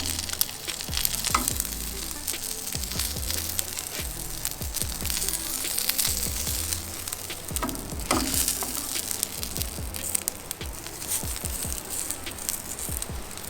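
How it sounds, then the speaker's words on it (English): Tuna sears in a hot pan with a steady, loud sizzle and crackle, close up and continuous, with occasional clatter of the pan or utensil and no talking. "We just wanna sear the outside."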